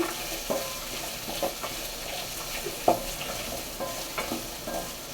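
Garlic and ginger sauté in a pan for urad dal chutney, a soft steady sizzle with scattered spoon scrapes and taps against the pan, fairly quiet and close, with no talking.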